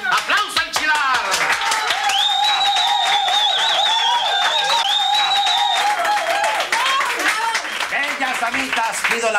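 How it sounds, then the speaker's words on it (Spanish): Audience applause in a lively Mexican show setting, loud and sustained for the full stretch, mixed with cheering voices and a prominent whistling or vocal tone running through the middle. "¡Aplausos al Chilar!"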